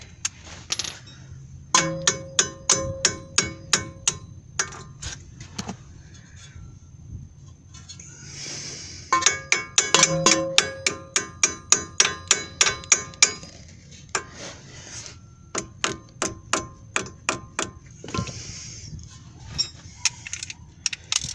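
Repeated metallic hammer blows drive a tie rod end into place on a car's steering linkage, ringing in quick bursts of sharp strikes with short pauses between volleys, loud and close with no talking.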